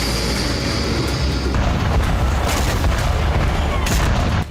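An air strike on the Hezyaz power station in Sanaa sets off a steady heavy roar of blasts and rumbling booms. It is loud and continuous for several seconds, with a few sharper cracks breaking through.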